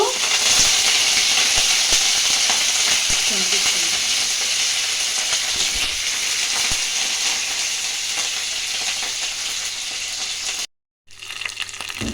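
Green chillies and curry leaves fry in hot oil for mango pulihora, a steady dense sizzle holding loud and close for about eleven seconds before a brief dropout and its return.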